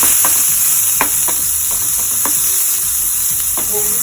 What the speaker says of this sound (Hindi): ये देखिए हमने प्याज डाल के उनको भून लिया है